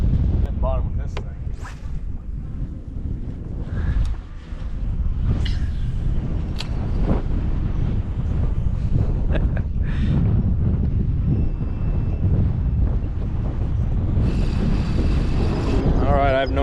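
Strong wind roars across open water on a winter fishing trip at Crystal River, Florida, buffeting the microphone with a steady heavy rumble throughout, with faint talk underneath.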